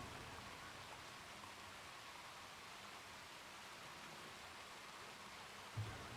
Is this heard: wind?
no